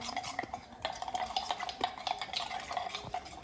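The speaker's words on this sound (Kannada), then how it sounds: "ಅದೇ ಕಪ್ನಲ್ಲಿ 1 ಚಮಚ ಹಿಟ್ಟು ತಗೊಂಡು ಇದನ್ನು ಕಲಿಸ್ತಾ ಇದ್ದೀನಿ" A spoon stirs ragi flour mixed with water in a cup, producing quick irregular scrapes and light clinks against the sides, close and fairly soft, with no talking.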